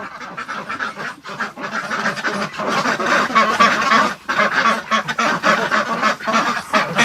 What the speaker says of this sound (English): The ducks want out.